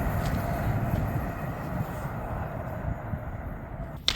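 An Avanti West Coast Class 390 electric train passes through Berkhamsted station, making a steady, loud rushing roar for the whole stretch without a break, close by and with no voices.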